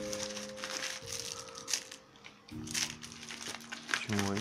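A plastic parcel package being crinkled and handled while opened, with bursts of crisp rustling and crackling, close up, alongside someone talking.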